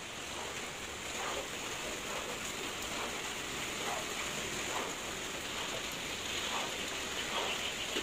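Heavy rain pours down in a dense, constant hiss, with occasional louder drops spattering on a hard surface nearby.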